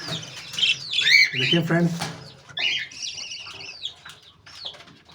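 Hagoromo budgies chirp in bright, busy bursts close by, with a quick flurry of wing flapping early on, while someone talks over them.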